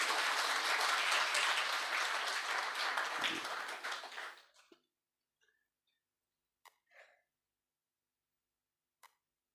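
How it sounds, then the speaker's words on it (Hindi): Loud, dense applause from a crowd at a kavi sammelan poetry gathering, sustained for several seconds before fading out into near silence broken by a few faint knocks. "तो आप एक बार इनके लिए जोरदार तालियां बजा सकते हैं"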